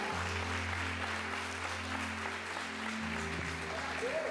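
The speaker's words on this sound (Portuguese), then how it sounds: "Aplauda Jesus por isso" Congregation at a church youth conference applauds, a steady, moderately distant wash of clapping with a low sustained hum and tones running underneath throughout.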